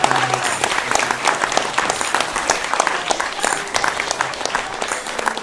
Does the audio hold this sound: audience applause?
yes